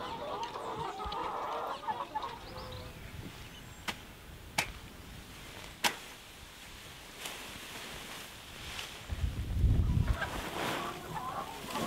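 Chickens on a poultry farm cluck at a distance, with scattered sharp clicks and knocks nearby and a low rumble rising near the end.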